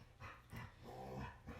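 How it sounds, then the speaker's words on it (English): A dog growls indoors in low, rumbling bursts that rise and fall over a second or two, fairly quiet and with no voices. "I think you can hear my dog."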